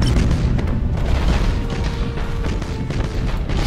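In the space strategy game Battlefleet Gothic Armada, a starship carrying plasma weapons blows up with a loud, sustained, rumbling boom that fills the whole stretch with dense low-end roar and crackle.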